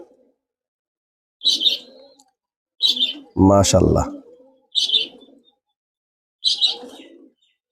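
A baby pigeon gives five short, squeaky chirping calls at roughly even intervals, close by, with a brief spoken word between them.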